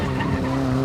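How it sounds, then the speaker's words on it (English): A Nissan 180SX drifting with its tires skidding, a steady, continuous scrub of rubber under loud engine drone, close and unbroken throughout. "Any faster and I will drift out. I'm starting to drift out."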